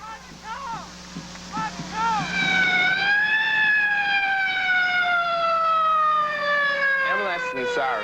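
A wailing emergency siren rises and sweeps in long tones, loud and close, after a moment of mixed background noise and voices at a 1991 high school football game.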